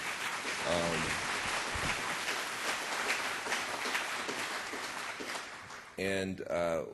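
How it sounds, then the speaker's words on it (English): An audience at a sustainability conference applauds after a presentation, a steady wash of clapping lasting several seconds, with a voice briefly heard at the start and again as the applause ends. "I think we should give another round of applause to Professor Sachs."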